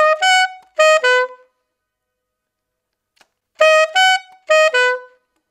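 Alto saxophone plays an opening phrase, reaching high notes on the palm keys: two short groups of clear, sustained tones, a long silence, then the same figure repeated, solo and close.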